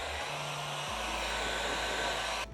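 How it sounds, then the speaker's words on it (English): A heat gun warms the flaps of an MX decal, blowing a steady, close, airy roar with a low hum that shifts pitch once before cutting off at the end. "These areas like here, these flaps, I am going to heat those up a little bit"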